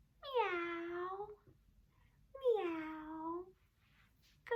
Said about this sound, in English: What does a cat say? Meow.